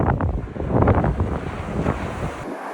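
Ocean waves on Ventry Beach in Ireland, a close rushing surf wash mixed with gusty wind buffeting the microphone, swelling and then easing off before a sudden cut near the end.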